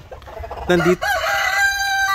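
A chicken, a nine-month-old hen, lets out a loud, close squawking cluck, then a drawn-out call trails off. No voices.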